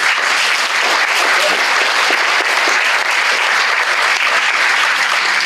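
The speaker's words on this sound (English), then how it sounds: "Can we have another round of applause for our graduates?" A large crowd at a university graduation ceremony applauds the graduates, a loud, dense and continuous wash of clapping that holds evenly throughout.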